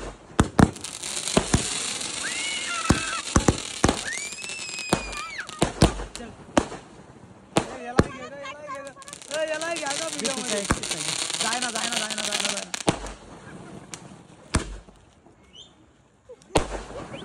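Firecrackers and fireworks burst in a rapid series of sharp, loud bangs and crackles at a birthday celebration, with whistling rockets in between and people's voices underneath.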